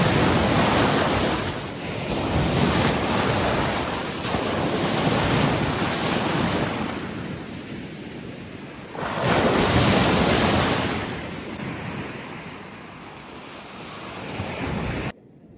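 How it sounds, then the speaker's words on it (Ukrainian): Sea waves on the shore at Karolino-Buhaz beach roll in and wash out in long swells, loud and near, mixed with heavy wind buffeting the microphone. "Як же добре ось так побути на березі, поспостерігати за хвилями"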